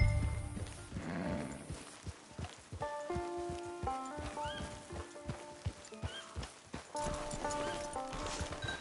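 Horse hooves clip-clop on the ground in a video game, a steady run of soft hoof falls under game music, with a brief neigh near the start.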